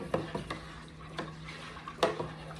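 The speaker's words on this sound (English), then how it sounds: "we're gonna stir this real vigorously" A spoon stirs mead in a pot with a few quiet, scattered clinks and scrapes against the sides, spaced irregularly over a low, soft background hum.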